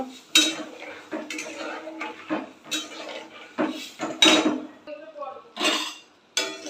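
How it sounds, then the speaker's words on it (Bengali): A spice mixture with beaten yogurt being stir-fried in a pot before hilsa fish goes in, heard as close, repeated clanks and scrapes of a metal spoon against the pot, with faint sizzling between strokes. "এটা ভালো করে কষিয়ে নেব"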